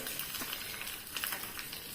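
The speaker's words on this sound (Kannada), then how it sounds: "ಸಾಸಿವೆ ಚಟಪಟ ಅಂತ ಹೇಳ್ತಾ ಉಂಟು" Mustard seeds crackle and spit in hot oil for a tempering, a brief, fairly soft burst of dense sizzling pops with no voice.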